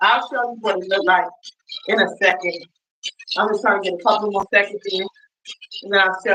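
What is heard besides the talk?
No everyday noises stand out.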